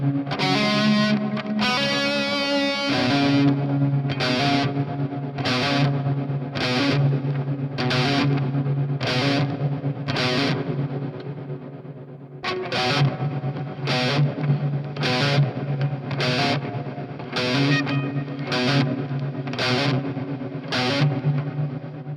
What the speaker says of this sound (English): Let's do some really simple stuff with the reverb pedal in the effects loop of the Amp Central